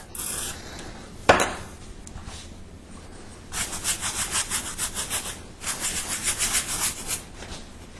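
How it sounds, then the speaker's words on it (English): Olive oil spray misted over the top of sourdough pizza dough before grilling: a single sharp knock, then two runs of quick, close hissing spritzes in a quiet setting. "I'm going to start off by misting the top of the dough with olive oil"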